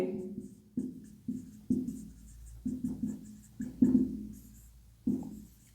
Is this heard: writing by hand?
yes